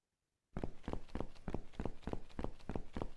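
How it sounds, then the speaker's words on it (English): Avatar footsteps in the Virbela virtual campus, a steady, even run of crisp steps starting suddenly after a short silence and continuing close and clear. "You start to hear footsteps."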